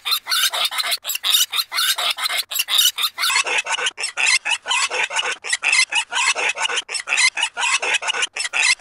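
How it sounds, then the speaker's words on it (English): A recording run through a pitch shifter set very low turns into a rapid series of harsh, rasping bursts, evenly repeating and loud throughout, with no talking. "We'll use the pitch shifter, but this time I'm going to bring it down real low."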